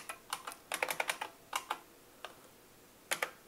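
Keys pressed on a computer keyboard while COBOL runs on a Commodore 64, coming as quick clusters of crisp clicks with short pauses between bursts, close up and fairly quiet, with no voice.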